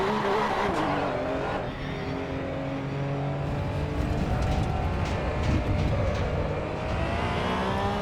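A race car engine in the video game Assetto Corsa EVO revs hard and steadily, loud and close, with rising and falling pitch and some tire noise, while someone talks quietly over it.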